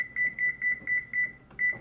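A kitchen oven's control panel beeping as it is set to 400 degrees, seven short identical electronic tones in steady rhythm, close and clear with no voices.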